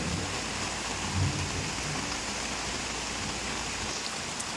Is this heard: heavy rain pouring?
yes